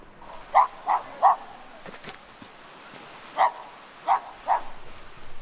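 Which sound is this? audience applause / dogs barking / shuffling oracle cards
dogs barking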